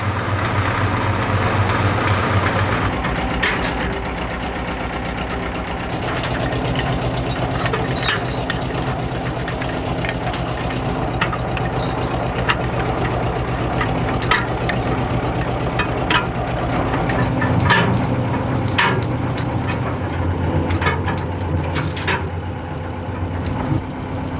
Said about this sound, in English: at last the main engine restarts